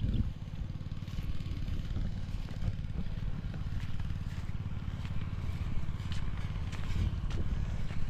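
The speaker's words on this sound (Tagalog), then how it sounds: "Mac, mauubusan ng gas yung Robin." A Robin gasoline engine, nearly out of fuel, runs with a steady low chugging drone throughout, fairly close and unbroken, with light clatter on top.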